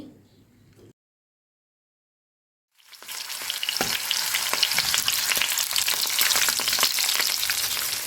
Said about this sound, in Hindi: मिर्चों को इस तरह से हिलाते हुए हम चारों तरफ से फ्राई कर लेंगे।